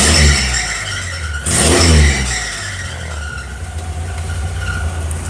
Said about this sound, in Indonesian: Mesinnya halus ya.